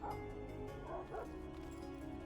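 A dog in a video game gives a few soft, quiet yips and bow-wow barks as it is petted, with no talk over it.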